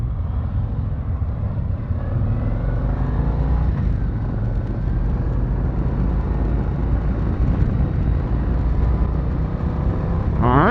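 A 2023 Harley-Davidson CVO Street Glide motorcycle rides through a corner, its engine rumbling steadily under heavy wind rush, with the exhaust note swelling slightly toward the end.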